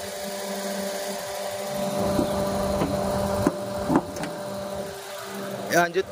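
A 2018 Honda Brio S manual engine idles with the air conditioning on, a steady hum and whirring fan, while a person talks over it and a few clicks sound near the end.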